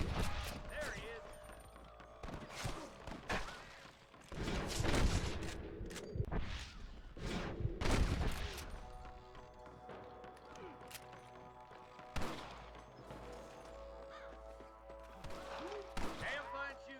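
Gunfire in the Western game Red Dead Redemption sounds as repeated loud bursts of rifle and pistol shots with echoing cracks, a heavy volley midway, and voices talking between the shots.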